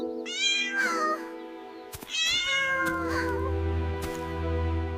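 A cat stuck up a tree meows loudly several times in a row, high and drawn-out cries, with a low rumble underneath toward the end.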